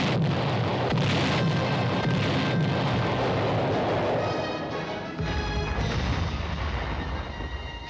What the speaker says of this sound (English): Having called for artillery fire, the observers stand by.